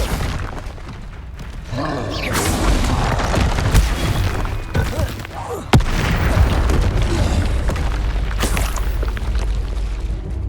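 Confringo fire spells explode in Hogwarts Legacy combat, a loud run of booming blasts and crashes with a sharp crack partway through, over continuous battle noise.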